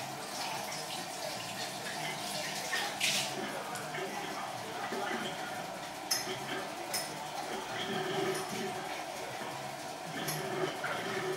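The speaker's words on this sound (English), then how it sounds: "but I'll quickly wash this jar" Running water from a sink tap as a glass jar is washed, with a steady splash and occasional clinks of glass, no talking heard.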